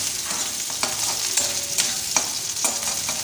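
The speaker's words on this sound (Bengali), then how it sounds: "আর এতে রসুন কুচি, পেঁয়াজ কিউব আর ক্যাপসিকাম কিউব এটা দিয়ে এখন ভাজছি" Chopped garlic, onion cubes and capsicum cubes sizzle in a pan with the fish already fried, a steady close frying hiss broken by repeated scraping stirs of a spatula.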